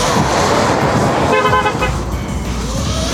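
A car passes close by on a road, its loud engine and tyre noise washing through, with a short horn-like tone sounding midway as the vehicle goes by.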